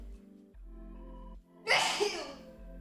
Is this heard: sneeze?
yes